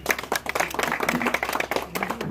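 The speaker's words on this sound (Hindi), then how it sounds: "बाकी लोग ताली से स्वागत करें" An audience claps to welcome Border Security Force soldiers at a civil society ceremony honouring the troops, a brief burst of brisk, scattered applause with voices talking over it.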